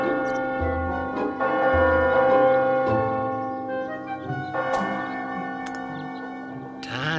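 Church bells ring out with sustained, layered tones, several struck notes overlapping and decaying over a steady hum, fairly loud and continuous.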